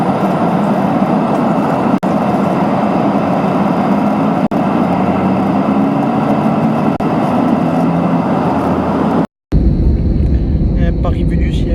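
A steady, loud broadband roar fills an airliner cabin in flight, with a few brief dips before the sound cuts out abruptly near the end and a quieter, different background takes over.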